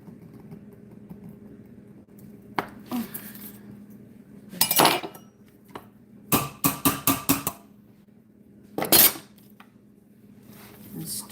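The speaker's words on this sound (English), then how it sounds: "So after you mash them, you're going to start adding butter and stirring it." Yams are mashed and stirred with butter in a pot, giving bursts of scraping and clanking utensil strikes against the pot, some in quick rhythmic runs, between quieter pauses.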